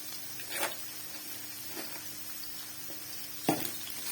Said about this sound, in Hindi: प्याज हमारा जो है वो हो रहा है ब्राउन।